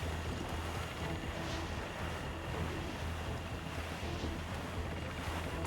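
A sailing ship moving over ocean waves in the video game Assassin's Creed IV Black Flag, with steady surf and wind rushing over the deck, continuous and fairly close, with no voices.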